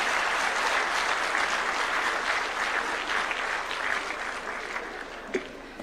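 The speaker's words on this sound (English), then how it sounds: "a Mohatia clap for Dr. James Mwangi" A crowd at a national address in Murang'a claps steadily for an honoured guest, dense applause that holds level and then slowly thins toward the end, with a few louder isolated claps near the close.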